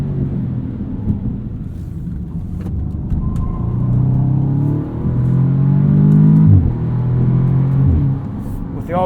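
A 2016 Audi S3 sedan with all-wheel drive launches from a brake-held start, its engine rising in a loud, sustained rumble through several upshifts as it accelerates hard, with no talking over it.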